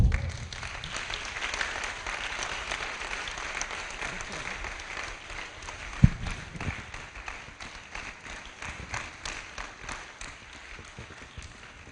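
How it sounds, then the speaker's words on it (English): An audience applauds steadily for a winner at a 2018 literary award ceremony. The dense clapping carries on throughout, with a single sharper clap standing out midway and only faint voices underneath. "Continue clapping."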